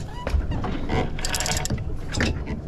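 A fishing reel is cranked hard while fighting a bluefin tuna off Morehead City on a commercial boat, giving a close, loud run of grinding, ratcheting mechanical clicks.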